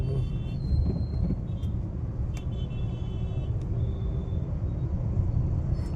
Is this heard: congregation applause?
no